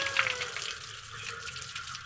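Water runs and drains away, a soft steady rushing and trickling at low level, indoors and fairly close, with faint background noise and no talking.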